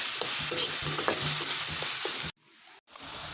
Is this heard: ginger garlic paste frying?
yes